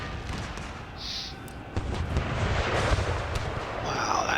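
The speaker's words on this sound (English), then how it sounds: "It's a fantastic barrage we're getting on them now." Rolling artillery barrage in Empire Total War: a dense, continuous rumble of distant booms and cannon fire that swells over the few seconds, with faint battlefield clatter layered through it.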